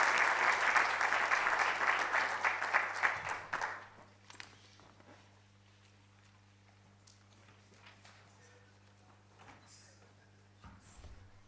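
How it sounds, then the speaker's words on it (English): Audience applause for Mr. Jonas at an annual lecture, a lively burst of clapping that fades out after about four seconds, leaving a quiet hall with a steady hum and scattered shuffles. "I would like to ask for another round of applause for Mr."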